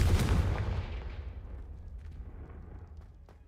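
A Confringo fire spell in Hogwarts Legacy bursts out as one loud, close fiery blast that rumbles and fades away over a few seconds.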